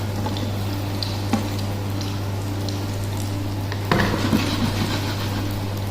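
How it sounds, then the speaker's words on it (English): Chicken kofta balls deep frying in oil give a steady, even sizzle with a constant low hum underneath, broken by a sharp tap near the start and a burst of louder bubbling and clatter toward the end. "So I already put our kofta here and have to fry"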